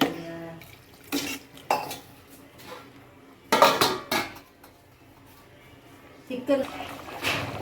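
Chicken curry with ginger garlic paste being stirred in a pot, with a metal spoon scraping and clinking against the pot in irregular bursts, sometimes quieter, while a person talks.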